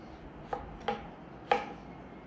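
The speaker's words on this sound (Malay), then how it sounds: "Manakala kelopak ni kita akan potong begini, memanjang. Potong nipis-nipis, memanjang." A knife slices torch ginger flower petals lengthwise into thin strips for meat floss, giving three sharp, close taps on a board at uneven intervals against a quiet background.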